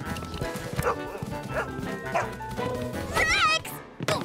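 A cartoon dog in a Bob the Builder episode barks repeatedly in loud yapping bursts, with a person speaking over it and a higher yelp near the end.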